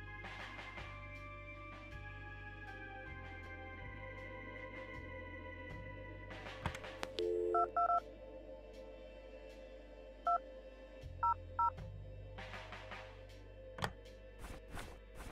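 Short telephone dialing beeps in the point-and-click game Kathy Rain, a few brief tones in separate clusters over steady background music.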